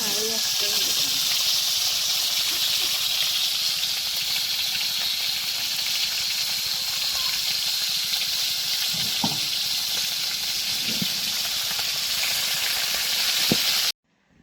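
Thick fish pieces fry in mustard oil with a steady, hissing sizzle that fills the whole stretch, a few faint clinks and handling noises beneath, then it cuts off abruptly at the end.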